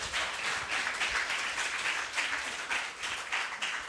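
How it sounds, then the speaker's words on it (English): Audience applause fills a seminar hall after a guest professor's talk, a steady dense wash of clapping lasting several seconds at moderate level with no voices over it. "Please give big applause for Prof."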